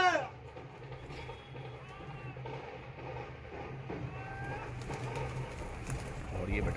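Pigeons coo softly on a rooftop during a pigeon-flying session, low repeated calls heard throughout under background voices and ambient noise.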